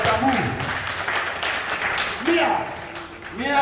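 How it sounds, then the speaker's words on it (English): Applause from an audience at a Mende naming ceremony in Sierra Leone, a broad wash of clapping mixed with voices and cheering throughout. "A very big round of applause, please, ladies and gentlemen, for Jabu."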